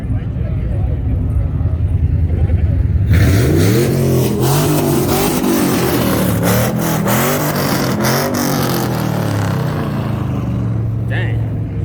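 Cars revving and two-stepping at a busy outdoor car meet, with deep engine rumble and repeated throttle blips rising and falling close by, under loud talking and shouting from the crowd.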